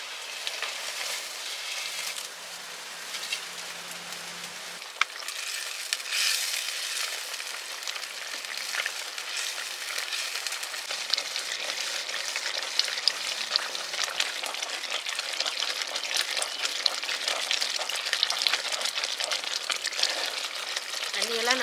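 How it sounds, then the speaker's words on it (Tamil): Bread is stirred in boiling sugar water for bread halwa, giving a steady bubbling sizzle with soft scraping throughout, close and continuous without a break. "தண்ணியெல்லாம் நல்லா சுண்டி இந்த பிரெட்டு வந்து நல்லா வேகிற வரைக்கும் கைவிடாமல் கிளறிக்கணும்."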